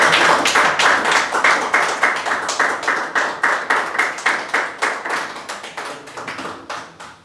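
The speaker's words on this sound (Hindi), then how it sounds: "जोरदार तालियां बजा दीजिए" An audience claps and applauds after a poetry recital, with steady, rhythmic, close clapping that gradually thins and fades toward the end.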